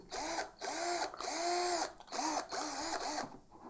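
A Steiner cordless drill whirs in a series of short bursts, its motor whining up and winding down between presses of the trigger, close and fairly quiet with no talking.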